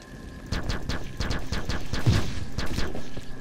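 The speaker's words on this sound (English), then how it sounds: "it's a rocket launcher thing. Plasma mortar" Plasma mortar rocket launcher firing in the game Capsized: a rapid run of sharp, punchy blasts at an irregular pace over a steady background, with close, loud bursts that build in density.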